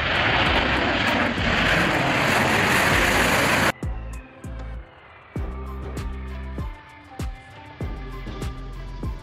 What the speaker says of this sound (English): This is the largest, heaviest, and fastest supersonic bomber in the world.